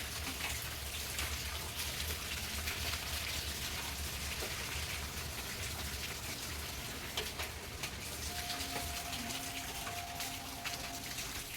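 Light drizzle falling on wet garden plants, a steady dense patter of fine raindrops on leaves that continues evenly and fairly softly throughout, with no voices.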